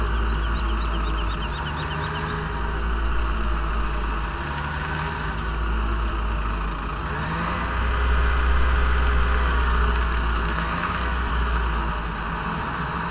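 A tractor engine in Farming Simulator 17 drones steadily at a low, rough idle, with a faint series of high beeps near the start and slight swells in loudness, with no voices.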